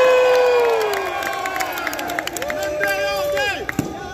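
A crowd cheers and shouts at a sumo exhibition match at an anime convention, bursts of yells and whoops rising and falling over a sustained vocal tone, loud and close, with individual voices calling out amid the noise.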